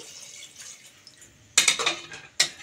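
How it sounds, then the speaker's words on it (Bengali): A bowl of water poured into a cooker of braised mutton paya, two short close splashy bursts after a quiet stretch. "ওই বাটির 1 বাটি জল দিচ্ছি"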